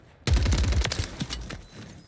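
A sharp sniper rifle shot booms in Warzone on Rebirth Island, followed by a quick burst of further reports and a decaying echo, loud and close with no talk over it.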